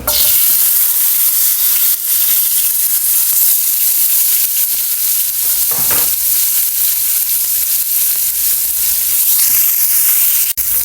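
Vegetable aromatics sauté in a hot frying pan in a home kitchen, a loud, continuous sizzle and hiss with occasional sharper crackles and stirring scrapes, close and steady throughout.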